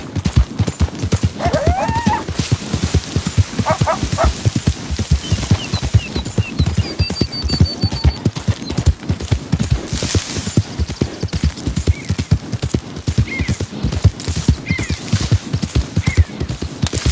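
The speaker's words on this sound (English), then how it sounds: "the old man with the lame horse has an American Standard bred" American Standardbred horse in Red Dead Redemption, steady rhythmic hoof clip-clop throughout with a couple of neighs and whinnies over it, plus faint game sounds and brief voices.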